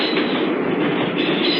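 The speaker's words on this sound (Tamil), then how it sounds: "ரயில் போகுது." A passing train makes a loud, close, continuous rushing rumble of rolling wagons that fills the whole short stretch without a break, with no voices.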